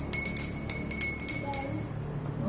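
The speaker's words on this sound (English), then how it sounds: "Bell." A small bell rings repeatedly in quick, bright strikes during a home hearing practice exercise, then fades into a short ringing tail.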